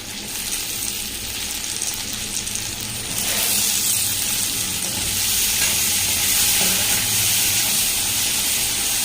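Tomatoes fry in a pan with ginger garlic paste for a fish curry, giving a loud, continuous hissing sizzle that grows a little stronger partway through. No speech is heard.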